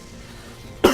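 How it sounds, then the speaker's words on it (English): A single short cough bursts out near the end, sharp and fairly loud after a quiet stretch, with a faint throat-clearing edge to it. "he's coughing"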